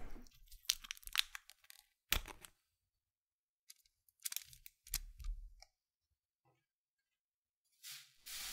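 Close crackling and tearing bursts as the wrapper of a Sugus chewy candy is unwrapped, several short crinkles separated by quiet pauses.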